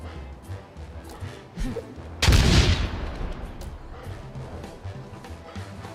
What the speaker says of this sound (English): I'm throwing a grenade on him and do the final bit of shred